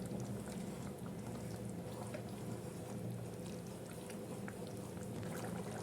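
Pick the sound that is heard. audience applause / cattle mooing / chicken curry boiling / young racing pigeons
chicken curry boiling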